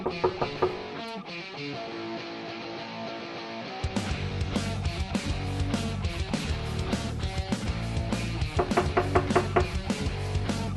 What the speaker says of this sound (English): Axel only had to knock a few times before the old wooden door creaked open.